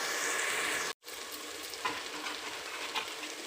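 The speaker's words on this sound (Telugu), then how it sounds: "బాగా ఫ్రై అయినాక అందులో పచ్చిమిర్చి కరివేపాకు వేద్దామండి" Green chillies and curry leaves sizzle and fry steadily in oil for a Guntur-style country chicken curry, a dense close crackle with one brief dropout near the start.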